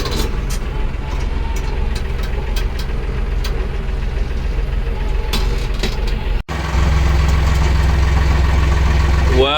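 A farm tractor's diesel engine idles with a steady low rumble close by, getting louder and heavier after a brief break partway through; faint voices are audible.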